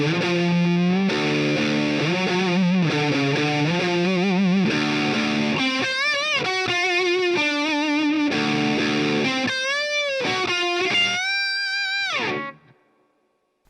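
Heavily distorted electric guitar plays a churning riff with bent notes. It runs loud and continuous for about twelve seconds, ends on a held, wavering note, then cuts off.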